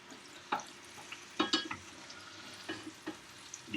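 Stuffed French toast fries in butter in a fry pan, giving a quiet sizzle broken by several sharp utensil scrapes and taps against the pan.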